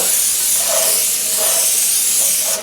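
A steady, loud aerosol hiss runs continuously for a few seconds, a cooking spray being sprayed at close range with slight pulses in intensity.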